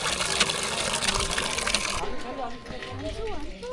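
Water gushes steadily from a hand pump as it is worked, a loud continuous splash that drops off partway through while someone talks over it.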